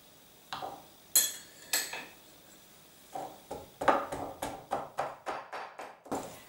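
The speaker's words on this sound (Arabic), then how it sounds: "الثوم هرسته" Garlic cloves pounded with salt and spice in a mortar: a series of sharp, clinking knocks, a few spaced strikes and then a quicker steady run of pounding, close by with no talk.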